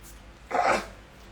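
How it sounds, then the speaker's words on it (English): A dog gives one short, loud bark close by, with quiet surroundings before and after. "This dog is full of speed."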